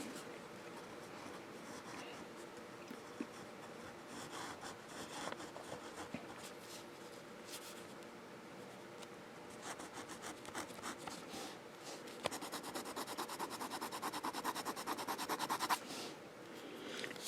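A fountain pen writes on paper, with faint, close scratchy strokes that come in bursts, growing busier and more rapid toward the end over a quiet background.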